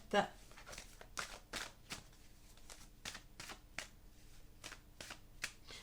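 Oracle cards being shuffled and cut by hand for a weekly Aries reading, a run of quick papery riffles and slaps at a steady rhythm, close and fairly soft, with a voice speaking over parts of it.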